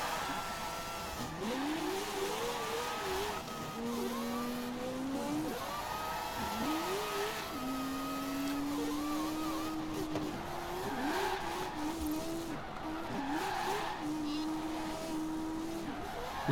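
A Mazda RX-7 Spirit R drifting in Forza Horizon 4, its engine revving hard and repeatedly rising and falling in pitch, with a steady roar that continues throughout.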